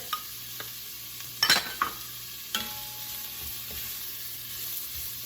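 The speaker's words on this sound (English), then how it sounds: "So we are gonna let this saute for a little bit," Vegetables sauteing in a pan for white chicken bean chili make a soft continuous sizzle. A few sharp stirring knocks and utensil clinks break through near the start and middle.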